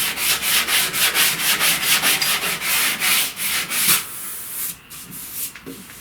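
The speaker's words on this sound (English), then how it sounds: "let me sand this corner over here" Hand sanding of body filler with 80 grit sandpaper on a 1969 C10 inner door panel, brisk rhythmic rasping strokes close up, about a dozen even passes, then slower, scattered scrubs.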